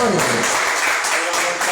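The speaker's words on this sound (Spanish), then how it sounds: "Un aplauso para el público," Brief burst of audience applause at a panel discussion, a steady wash of clapping with voices mixed in throughout.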